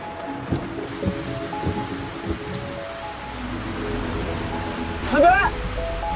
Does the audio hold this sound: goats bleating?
no